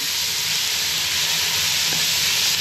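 Chopped onions hit hot oil in a pan and sizzle steadily with a loud, continuous hiss, close and unbroken throughout.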